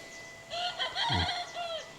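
A rooster crows once in the morning, a clear drawn-out call at moderate distance, with faint background ambience and another bird calling softly, at a rural village near the Vietnam border.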